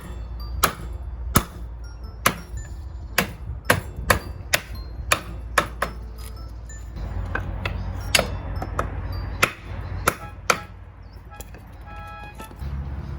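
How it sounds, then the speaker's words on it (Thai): A shaft on a Mini Bear 125 is tapped in through a wooden block, giving a series of sharp, evenly spaced knocks, roughly one per second, followed by quieter, scattered taps over a low background hum. "ค่อยตอกเข้า"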